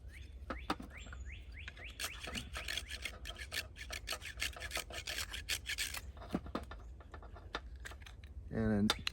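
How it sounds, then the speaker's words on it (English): Fatwood being grated into fine shavings for fire starting, heard as repeated close scraping, rasping strokes in an irregular rhythm, with a brief clunk near the end. "this is used to make fatwood shavings"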